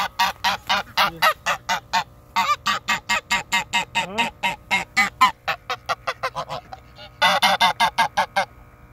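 A goose honks loudly and close by a backyard bird feeder, a rapid run of harsh repeated calls with brief pauses and a final burst, no talking.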